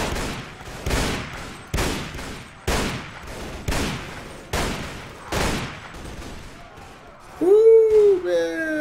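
Gunfire rings out in the Red Wars mod of Mount & Blade: Warband, with about eight evenly spaced, echoing shots about a second apart. Someone speaks briefly at the end.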